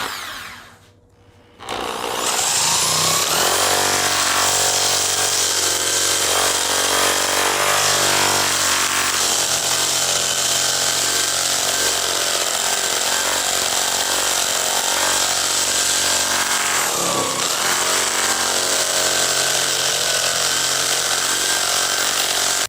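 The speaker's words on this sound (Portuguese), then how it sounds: "eu vou usar a furadeira." A power drill fitted with a sanding attachment whines loudly and continuously for most of the clip, starting after a brief quiet moment, with slight dips in pitch as it bites while removing rust from a metal tube.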